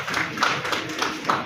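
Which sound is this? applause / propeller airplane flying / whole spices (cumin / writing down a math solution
applause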